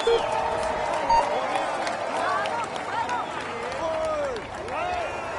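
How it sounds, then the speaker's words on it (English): Roadside crowd cheers and applauds a rider starting a Tour de France individual time trial, a steady roar of shouts and clapping with a commentator talking over it. "Let's cheer him loudly."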